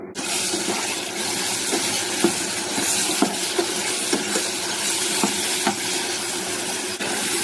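Brinjal sizzles steadily in hot oil, a dense continuous frying hiss with occasional small pops and clicks, close and loud with no talk.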